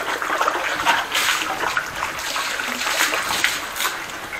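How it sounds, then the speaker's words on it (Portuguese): Water splashing and streaming as it is poured off a large dog during an outdoor bath, a steady wash of splatter and trickle lasting several seconds, fairly close, with no talk. "Tirar aqui essa água aqui."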